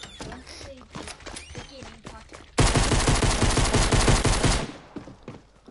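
Pistol gunfire in a video game: after quieter game sounds, a sudden loud volley of rapid, evenly spaced shots runs for about two seconds, then cuts off.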